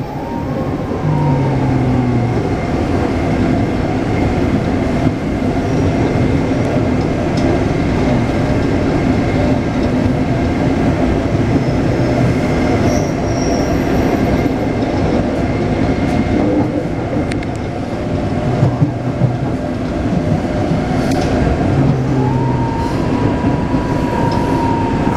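Taipei Metro 381-type train running from Tamsui toward Beitou, a loud steady onboard rumble with wheel and track noise and rising and falling motor whine throughout.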